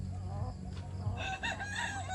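Brahma breeder chickens clucking and crowing nearby, a few short fowl calls rising into a strained crow-like burst in the second half, with faint background noise.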